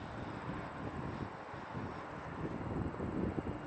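Hobbyking Sunbird 1.6 m RC glider with split flaps in flight as its electric motor powers up, a steady whirring drone heard from a distance with wind noise, rising slightly toward the end, with no talking.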